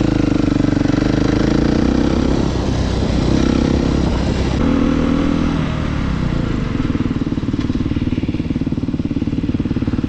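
A motorcycle rides along a street on the way to a good spot for burnouts, its engine droning steadily up close with slight shifts in pitch and no talk.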